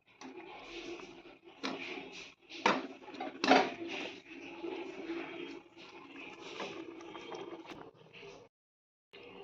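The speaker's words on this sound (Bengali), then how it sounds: "এবার এখানে দিয়ে দিচ্ছি ভেজে রাখা পনিরগুলো।" Fried paneer pieces go into a cooking pan with ghee for dhaba-style paneer masala, producing a run of close clatters and knocks of metal and food against the pan before a brief silence near the end.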